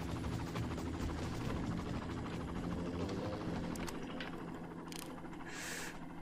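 A helicopter in the video game Far Cry churns with a continuous, loud rotor thrum, joined by a few sharp in-game bursts near the end, with no talking.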